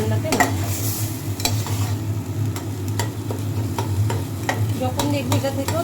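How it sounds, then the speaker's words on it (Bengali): Poppy seed paste sautéing in a pan for a Bengali egg dhoka, with steady sizzling under repeated sharp scrapes and stirring clicks of a spatula, close and continuous. "ভালো করে পোস্তটাও এটার মধ্যে কষিয়ে নেব"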